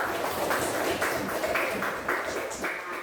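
A classroom of students claps their hands together at the start of a lesson, producing a rhythmic series of roughly even claps in unison over a busy, noisy room.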